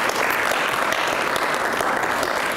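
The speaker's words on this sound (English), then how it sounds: "I would actually put a round of applause to Howard for being here." A lecture audience applauds steadily, a dense wash of many hands clapping at once without pause.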